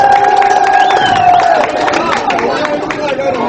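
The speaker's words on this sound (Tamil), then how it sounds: "கைத்தட்டுங்க." Crowd at a village dance competition applauding and cheering for the winning team, a dense, loud wash of clapping and voices with a sustained musical tone running underneath.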